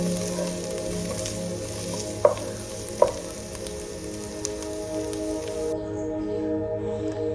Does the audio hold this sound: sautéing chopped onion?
yes